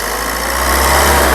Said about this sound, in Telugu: ఇంజన్ యొక్క నాయిస్ కూడా చాలా సైలెంట్గా అయితే ఉంది